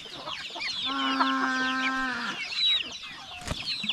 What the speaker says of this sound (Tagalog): Yung mga manok natin, oh.